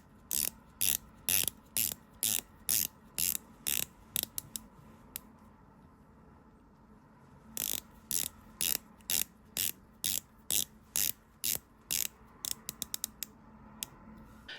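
Coin-edge bezel on a watch with a Sellita movement being turned by hand, giving sharp, crisp ratchet clicks in quick rhythmic bursts, a pause, then another run of clicks, close up with no talking.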